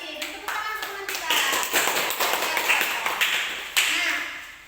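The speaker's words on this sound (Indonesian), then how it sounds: "Dan tepuk tangan teman kita." A classroom of junior high students bursts into applause, a dense run of many hands clapping near and loud for several seconds, with scattered voices mixed in.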